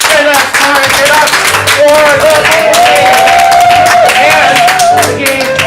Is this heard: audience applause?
yes